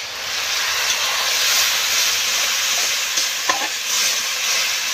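A spice paste of ground ginger and mixed masala, stirred with water, hits hot oil for a rohu fish curry with potatoes and sets off a loud, steady hissing fry. A few stirring clinks come through the sizzle, with no talk.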